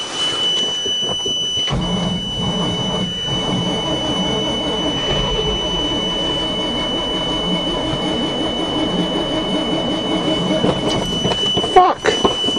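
Cold start attempt of a 427 engine dump truck on a farm in freezing weather, the engine cranking and sputtering loudly and steadily throughout without catching, with a brief clatter near the end.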